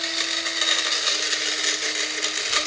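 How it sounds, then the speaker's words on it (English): A small electric coffee grinder grinds pistachios with a steady, high-pitched motor whir, close and continuous, the nuts rattling inside the blade chamber. "So I'm just gonna take my coffee grinder, which I don't use to grind coffee. I use it to grind my nuts and everything else."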